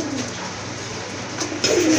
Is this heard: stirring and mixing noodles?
no